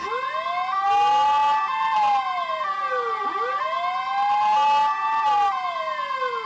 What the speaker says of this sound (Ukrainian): увімкнули сирени на машинах швидкої